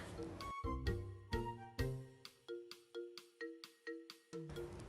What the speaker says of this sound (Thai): พอมีคนมาไลค์รูปเราเนี่ยก็จะมีโนติแจ้งเตือนแบบนี้ด้วยนะคะ